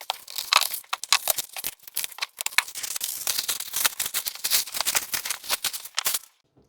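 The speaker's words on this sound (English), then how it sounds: "So let's unwrap the actual 2-piece one Alcantara dash cover first." Plastic packaging around a two-piece Alcantara dash cover for a Tesla Model Y is torn and crinkled open, a close, busy run of crackling rustles and rips with no talk.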